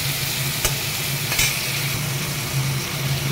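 Potatoes frying with turmeric, salt and tomato in a pan for a vegetarian Bengali lunch, giving a loud, steady, close sizzle with a couple of brief clinks. No one speaks.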